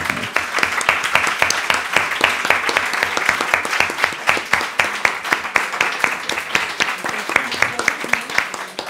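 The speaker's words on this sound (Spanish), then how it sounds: "se merece otro aplauso, José" Sustained applause from a crowd, many hands clapping steadily for several seconds, fairly close.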